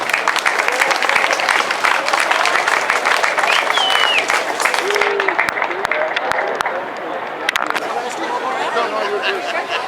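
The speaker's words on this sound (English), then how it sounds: "if we could have a big round of applause, we'll bring him up on stage" A large outdoor crowd at the Old Town Albuquerque fiesta for San Felipe de Neri claps in a sustained, loud round of applause, thinning slightly toward the end, with crowd chatter and voices mixed in.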